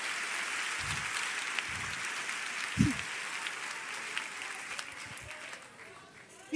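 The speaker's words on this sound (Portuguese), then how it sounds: "Se é para ele, aplaude mais forte." A church congregation applauds during a Portuguese-language sermon, producing a steady, moderately loud wash of clapping with a few low thumps, fading slightly toward the end.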